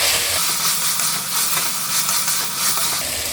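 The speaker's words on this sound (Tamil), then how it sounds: "நல்லா பச்சை வாசம் போகிற வரைக்கும் வதக்குவேன்." Ginger garlic paste with green chilli sautéing in a pan for pulao, giving a steady, close, loud sizzle and hiss throughout, with no voices.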